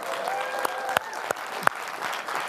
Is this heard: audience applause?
yes